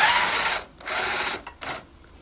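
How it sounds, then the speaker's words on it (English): Whirring bursts of a power ratchet spinning out bolts on the front bumper of a 2001 Mini Cooper R50, three short runs of sharp buzzing separated by brief pauses, close and fairly loud with no talking. "So I already loosened them with my ratchet."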